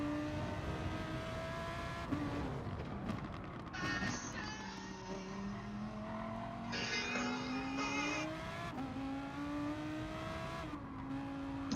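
Race cars lapping the Tsukuba circuit in a racing video game: several engines whine and rise through gears, overlapping in a dense, continuous roar with a shifting pitch, plus brief tire squeals and skids, with no talk.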